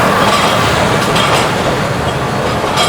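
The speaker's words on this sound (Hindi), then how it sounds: "ये 9 अब अल्लामा इकबाल एक्सप्रेस का रेक प्लेस हो रहा है प्लेटफॉर्म नंबर 3 पर" Allama Iqbal Express train rake being shunted into platform 3 at Karachi Cantt station, a steady close rumble of rolling railcars with faint wheel clatter throughout, no voices.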